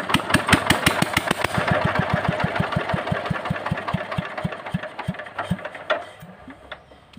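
An engine with a starting problem and a missing valve is cranked and fires into rapid, evenly spaced loud chugging pulses that slow and fade over several seconds before a final few knocks.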